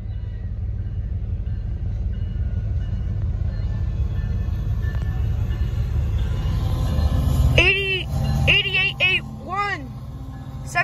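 A Union Pacific freight train led by an SD70ACE locomotive passes with a steady, deep rumble that swells gradually. An excited voice speaks over it near the end.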